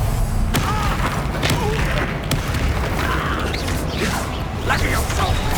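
A fire spell cast during combat in the video game Hogwarts Legacy, heard as dense, continuous game effects with repeated bursts, thuds and mechanical clatter throughout.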